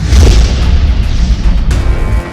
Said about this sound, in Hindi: तभी जोरदार धमाका हुआ।